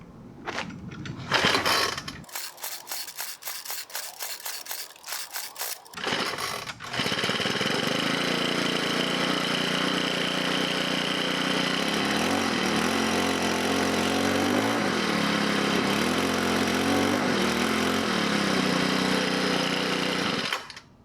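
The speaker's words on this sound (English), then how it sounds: "it took me a little while to start it with the pull starter from the first start" A Craftsman 29cc gas edger is pull-started: a few rapid cord pulls and sputtering attempts, then the small two-stroke engine catches and runs at a loud, steady idle close by until the end.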